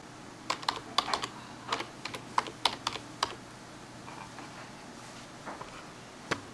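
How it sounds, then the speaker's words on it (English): Soft, quick clicks come from typing on a computer keyboard, an uneven run of close keystrokes that thins out toward the end with a few final taps, heard alone against a faint background hum. "we'll just type in a name."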